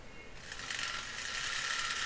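A sewing machine running a double seam on a dress, a steady fast mechanical whirring rattle that starts up and holds evenly throughout, close and moderately loud.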